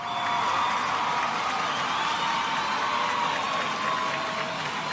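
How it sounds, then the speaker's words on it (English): Steady applause from a gathered audience closing a Rotary fundraising seminar, a dense even patter of clapping held at the same level for about five seconds with no voices standing out. "Applause, yay."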